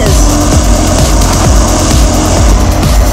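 A car engine revs in a brick-built animated movie, a loud continuous droning roar with rising and falling pitch sweeps repeating every half second or so, heard alone without talk.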